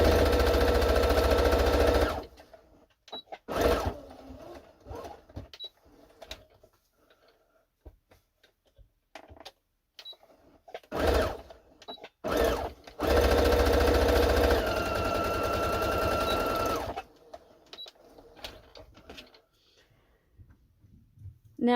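A domestic sewing machine stitches along the edge of soft knit fabric joined to woven fabric. It runs in several short bursts of rapid, even whirring with quiet pauses between them, and the final, longest run ends abruptly.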